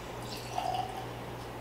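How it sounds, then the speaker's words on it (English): Larceny Barrel Proof whiskey, batch A122 at 124.4 proof, pouring as a dram into a glass: a faint, short liquid trickle and drip over a quiet room hum. "I'm gonna pour one more dram before we turn off the camera."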